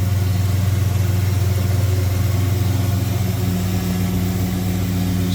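A 1967 Dodge Coronet 500 convertible V8 idling smoothly up close, a loud, steady low rumble with an even pulse that holds without any revving.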